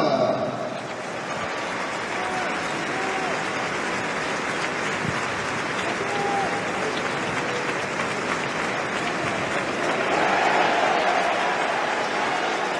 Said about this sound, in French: saluons notre équipe, notre club avec 31 secondes d'applaudissements